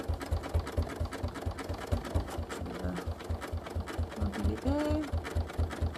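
Domestic sewing machine running a very small zigzag stitch for couching, its needle thumping in a quick even rhythm close up while someone talks over it.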